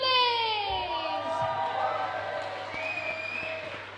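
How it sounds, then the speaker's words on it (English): Crowd at the Country On The Coast 2022 festival cheering and clapping for the band Southerlies, with loud whoops and shouts at first settling into steady applause and scattered calls. "please give the biggest cheer, the biggest clap for the Sutherlands"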